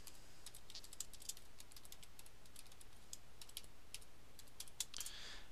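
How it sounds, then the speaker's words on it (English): Faint keystrokes on a computer keyboard as a password is typed, scattered irregular clicks over steady background hiss, quiet and alone with no talking. "Go ahead and type the password for the user."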